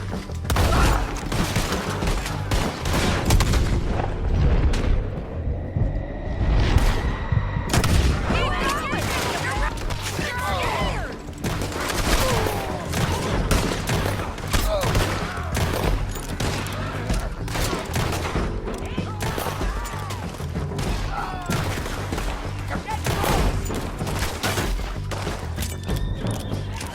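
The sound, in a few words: gunfight gunfire from the video game Red Dead Redemption 2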